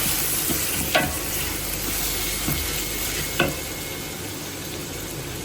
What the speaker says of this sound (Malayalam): ഉള്ളി മൂപ്പിച്ചെടുക്കുക